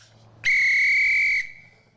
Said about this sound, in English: there is the whistle. We are officially underway.